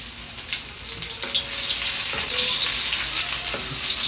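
Onions and garlic sizzle and fry in a hot pan, a bright steady crackle with faint stirring scrapes and a few light clinks close by, getting slightly louder toward the end.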